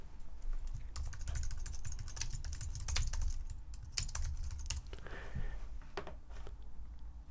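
Rapid typing on a computer keyboard, close and steady, with dense clicking keystrokes running continuously and a brief lull near the end.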